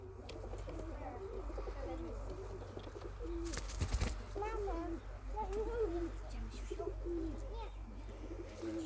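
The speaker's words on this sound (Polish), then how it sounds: "Gołąb!" Pigeons cooing in a breeder's loft, repeated soft cooing calls over a steady low hum, with voices nearby.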